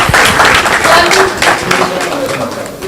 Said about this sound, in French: On applaudit s'il vous plaît pour encourager les artistes.